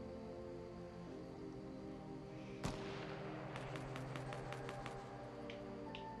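Gunfire in Fortnite Battle Royale solo mode: one sharp shot rings out over a quiet game backdrop, followed by a quick burst of fainter rapid shots.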